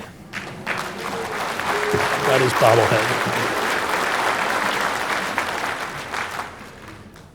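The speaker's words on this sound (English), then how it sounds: "Frankly, I was expecting a lynch mob, not applause." A lecture audience bursts into sustained applause, a broad steady roar of clapping lasting several seconds, while someone speaks briefly over it.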